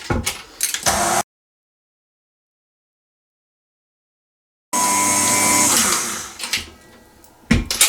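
Electric mixer beating a cake cream mass with almond oil for a Napoleon cream cake, whirring loudly in two bursts separated by a long silent gap, the second run longer and steady before tapering off.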